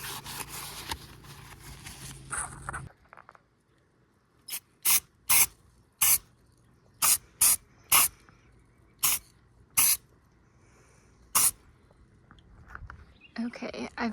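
Short, sharp hisses of an aerosol spray can painting a Jeep hardtop come in separate bursts of about a second each, fairly close and loud, with a quiet pause between them. Duller handling noise sits at the start and the end.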